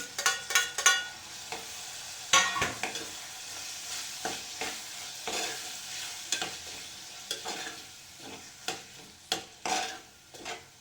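Chopped tomatoes frying in oil in a pan, a soft sizzle broken by repeated scraping and stirring strokes from a utensil at an uneven rhythm, close and fairly quiet, with no voices.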